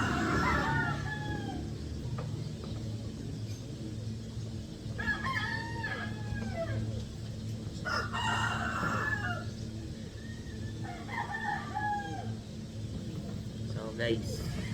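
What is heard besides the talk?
roosters crowing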